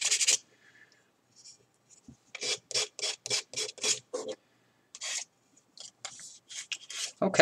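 A prop piece is sanded by hand with sandpaper in quick rasping strokes, a run of about seven rhythmic rubs in the middle with scattered single strokes before and after, close and clear, and no one speaks.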